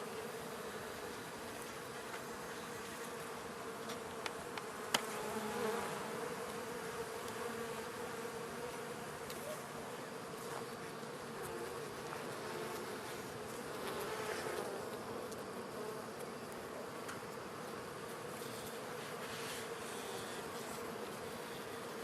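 A dense, continuous drone of many honeybees swarming around a hive, steady and enveloping with occasional closer buzzing passes, and no voices.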